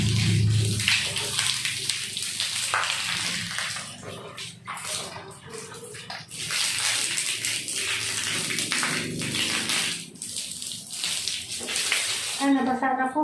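Water runs steadily, like from a tap or into a basin, throughout at moderate volume while people talk over it.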